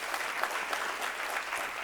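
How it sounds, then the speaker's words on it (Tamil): Applause from an audience at a Tamil book launch event, a sustained dense clapping of many hands at even loudness for the full stretch. "அப்பேற்பட்ட நீதி அரசர் அவர்களுக்கு மீண்டும் ஒரு முறை பலத்த கைத்தட்டல் தரலாம்"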